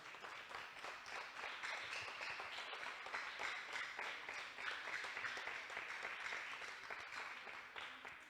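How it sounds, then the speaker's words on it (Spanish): Church congregation applauds during a sermon: steady, dense clapping from a large crowd, sustained evenly throughout, heard somewhat distant and soft. "Dale fuerte el aplauso al Señor el día de hoy"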